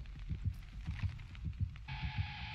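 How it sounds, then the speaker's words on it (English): Terror radius heartbeat from the video game Dead by Daylight: a steady, deep thumping pulse roughly twice a second, with a sustained tonal hum joining near the end. "Listen out for the terror radius heartbeat."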